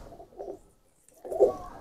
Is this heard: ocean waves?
no